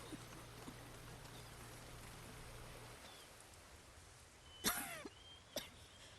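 A female character in the video game Ghost of Tsushima coughs in a short, sharp burst of a few hacks, followed moments later by a single fainter cough, over a quiet background hiss.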